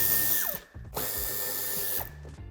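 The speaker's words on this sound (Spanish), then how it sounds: "en ambas esquinas quitaremos el tornillo de Torx de 25" Power drill backing out Torx 25 screws from the bumper corners of a 2014-2017 Škoda Octavia Scout III: two loud, close whirring runs with steady pitch, split by a brief pause in which the motor winds down and restarts.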